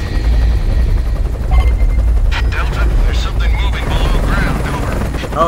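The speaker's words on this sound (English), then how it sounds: "Oh, there's the helicopter." In the video game Gears of War, a helicopter rotor thuds steadily and loudly under game noise, with bursts of gunfire and voices over it.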